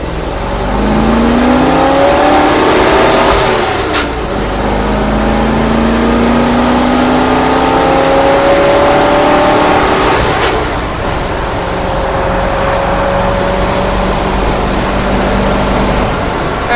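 A 1964 Ford F100 pickup with a 302 small-block V8 accelerates hard through first, second and third gears, the engine note climbing in pitch, dropping at each shift and rising again, loud and close throughout.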